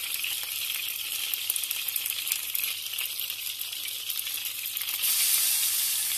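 Small flour-coated fish sizzling steadily in hot oil, a dense continuous crackle and hiss close by that swells louder near the end, with no voices.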